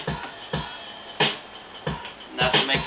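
A lo-fi drum loop with punchy kicks, snappy snares and hissing cymbals in a steady groove, fairly loud and alone.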